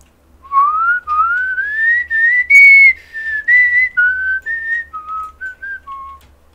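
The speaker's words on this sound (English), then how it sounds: "I have good whistling." A person whistles a wavering, siren-like tune in a string of rising and falling notes, loud and close, with no talk over it.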